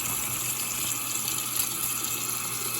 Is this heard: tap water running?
yes